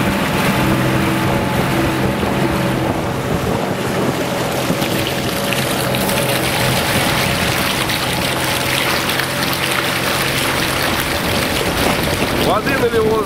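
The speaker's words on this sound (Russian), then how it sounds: "Короче, задувает по-страшно." Strong wind gusts steadily over an open lake where a boat is moored, a constant broadband roar with hollow buffeting, continuous and loud throughout, with faint voices underneath.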